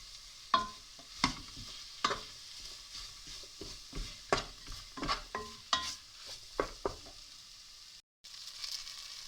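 Flour and pepper stirred into scouse stew in a pot, a spoon scraping and knocking against the pot in repeated distinct strokes over a faint sizzle, close and fairly quiet.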